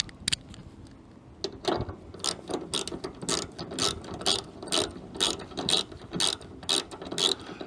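A ratchet wrench tightens a 10mm bolt on a hood piston of a 4x4 Sprinter van, giving a rapid run of close, sharp clicking bursts in repeated strokes after a brief pause at the start.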